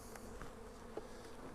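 Honeybees buzzing inside a cupboard-style hive sitting on a pallet, a steady low insect drone filling the background with a few brief louder passes, no voices.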